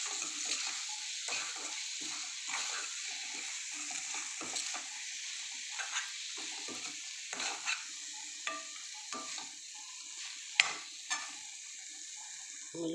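Chilli pulusu curry being stirred in a pot, with steady scraping and gentle sizzling throughout and a few sharper clinks of the spoon against the pot; no one speaks.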